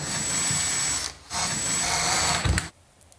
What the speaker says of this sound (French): Perce les trous.